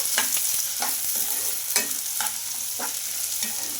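Vegetables fry in a pan over a high flame for homemade wheat-flour noodles, a steady sizzle broken by repeated scraping stirs at a regular pace, close and fairly loud, with no talking.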